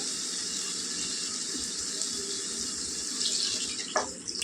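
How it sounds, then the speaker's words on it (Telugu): Water, about a glass, runs in a continuous splashing stream into a cooking capsicum-tomato curry, rising slightly toward the end with a small clatter, no voices present. "ఇప్పుడు నీళ్ళు వేసుకుందాం."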